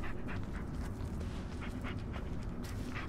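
Dog Bullet panting in the Blair Witch game: rapid rhythmic breaths, close and fairly quiet, over a steady low ambient rumble, with no talking.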